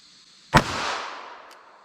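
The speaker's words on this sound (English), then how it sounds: "So let's see what we get with our little LCP here with our 380 ACP." A Ruger LCP pocket pistol fires a single .380 ACP round into ballistic gel: one sharp, loud crack with a short, decaying tail, with quiet before and after.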